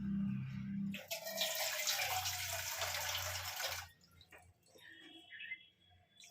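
Water pours into a rice cooker pot for khichdi in a steady, rushing stream of about three seconds. Quiet handling noises follow, faint and nearby, with no talking.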